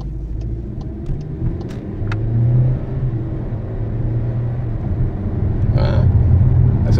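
A Cupra Formentor 1.5 TSI DSG pulls away from a standstill in sport mode. The engine rumble rises as it gathers speed and holds a loud, continuous low drone inside the cabin.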